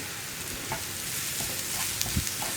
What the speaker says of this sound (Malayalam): ഇനി നന്നായിട്ട് സവോളയുടെ കളർ മാറുന്നത് വരെ വീണ്ടും ഇളക്കി കൊടുക്കുക.